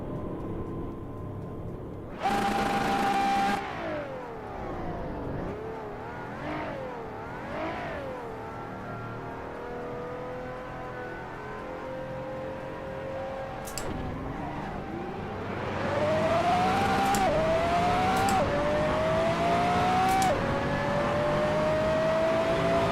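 A race car in the Assetto Corsa video game revs and accelerates through several gear changes, engine pitch climbing and dropping repeatedly, loud and steady throughout with a harsher surge in the final stretch.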